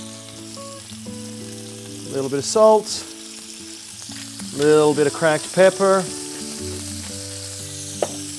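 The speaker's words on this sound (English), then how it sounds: "You want to hear that sizzle." Three scallops sear in olive oil in a hot pan, giving a continuous bright sizzle, while a voice talks over it in short bursts.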